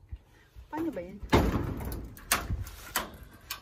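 A greenhouse door is opened, giving a few sharp knocks and rattles close by, with a brief scrape between them and muffled voices in the background.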